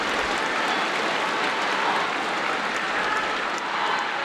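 Crowd applauding after a superb rally at a table tennis match in Guangzhou, China vs Chinese Taipei, a dense sustained wash of clapping from a large arena audience, loud and steady, easing slightly near the end.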